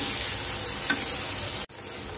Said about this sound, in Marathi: टोमॅटो ही आपले मऊ होईपर्यंत आपण शिजून देणार आहोत, तेलामध्ये छान परतून घ्यायचे आपल्याला।